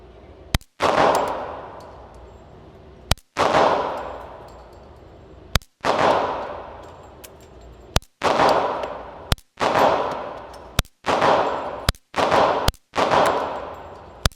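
A Glock 44 pistol fitted with a Huxwrx 22 Ti suppressor fires about ten suppressed shots at an outdoor range. Each crack is sharp and close, and a ringing decay follows it, with the shots spaced a second or two apart.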